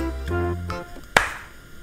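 A single crisp hand clap from a children's music lesson, landing after a few sustained musical tones and followed by a quiet fade.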